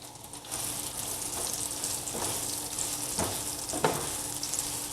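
Onions brown in hot oil with a constant close sizzle, broken by a few sharp crackles and stirring sounds as they cook.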